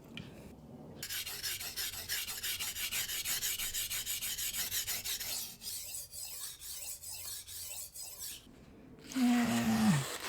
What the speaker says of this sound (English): And let's see how our knife looks. Quickly sharpen it.